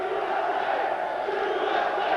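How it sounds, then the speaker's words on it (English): A crowd chants "USA" in a steady, sustained roar for an American fighter from Iowa facing a Brazilian at a WEF 9 mixed martial arts event in May 2000, the chant filling the arena without pause. "a chant of USA by the crowd for the American from Iowa against the Brazilian Pele Landi"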